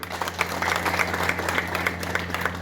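An audience claps at the inauguration of a children's police cell in Amravati, a brief spell of scattered, moderately loud applause over a low steady electrical hum.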